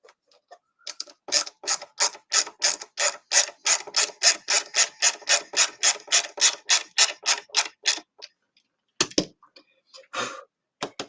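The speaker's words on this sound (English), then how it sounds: "As I was screwing it in, you could hear the sort of echo of the screwdriver in the body." A screwdriver drives a screw into a 3D printed guitar body with a long, even run of sharp ratcheting clicks that echo through the hollow body, followed by a pause and a few louder separate clicks and knocks.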